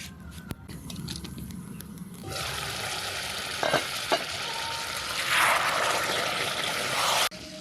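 Chicken cooking down with spices and tomato in a pan, a steady sizzle with occasional stirring scrapes and a brief louder hiss near the end.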